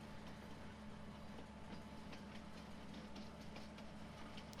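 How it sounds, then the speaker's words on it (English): Train in the Farming Simulator 19 video game on the Felsbrunn map runs along at speed, a faint, steady rumbling drone with light rhythmic rail clatter and no talk. "I don't think we've travelled on the train yet during this episode"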